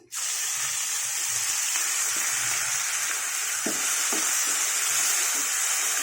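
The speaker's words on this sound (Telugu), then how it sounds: "ఇది పచ్చికారం కదండి అందుకని వేయిస్తున్నాను" Raw coriander-chili paste sizzles steadily with chunks of plantain in a hot pan for a Telugu-style curry, a loud, continuous frying hiss with a few soft stirring knocks and no talk.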